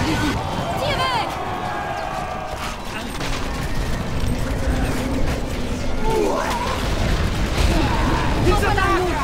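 A battle volley answering an order to fire, with booms and crackling shots mixed into a continuous din of combat noise, while voices speak over it.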